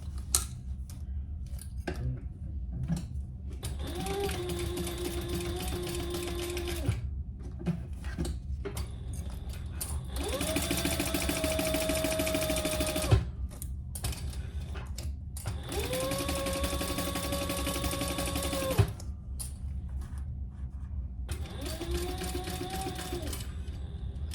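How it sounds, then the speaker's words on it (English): Sewing machine basting a zipper panel on a crossbody bag, several bursts of fast whirring stitching separated by short pauses and small clicks, close and clear. "we're gonna baste that in place"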